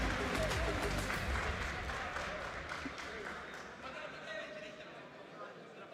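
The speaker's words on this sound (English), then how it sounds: "Let's give them some applause." A crowd at a live CS2 esports event applauds loudly, the clapping gradually thinning and fading away over several seconds.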